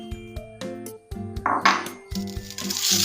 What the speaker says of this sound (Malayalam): പൊടിച്ച് വെച്ച ജീരകം നമുക്ക് ഈ ശർക്കരയിലേക്ക് ഇട്ട് കൊടുക്കാം